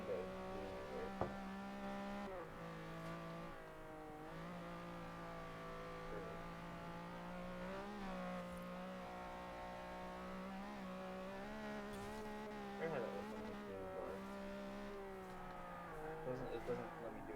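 Engine of a Toyota 2000GT in the racing game Forza Horizon 4, a sustained, fairly quiet droning note that rises and falls with the revs, with a speaker talking over it.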